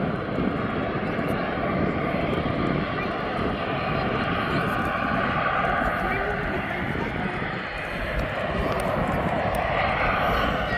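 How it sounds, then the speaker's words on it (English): A Ryanair jet arriving from Faro comes in to land at Birmingham Airport, a continuous broadband engine roar that holds steady throughout, with a voice talking faintly underneath. "Then we'll have the Ryanair coming. Is the second plane to land. That's from Faro."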